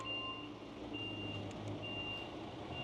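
Repeated reversing beeps ring out from trucks backing away near a marquee at a stadium construction site, steady and fairly faint over a low engine rumble.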